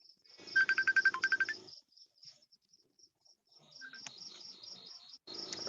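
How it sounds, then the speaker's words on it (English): A phone rings with a rapid electronic warble in short bursts, separated by quieter gaps with faint chirps, and no one talks over it. "The phone is ringing."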